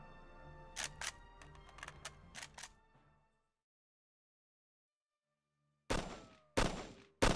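Gunfire on a firing range in the video game Arma: Cold War Assault: a quick run of sharp shots in the first few seconds, then a silent gap, then three loud, spaced reports near the end, with no talk.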